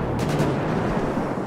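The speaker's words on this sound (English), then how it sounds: "Whenever you guys hear explosions, you know that cannot be good." Rumbling explosion blasts in the video game GTA 5, a police patrol mod scene, with a few heavy booms at the start settling into a sustained low roar, loud and close, no talking.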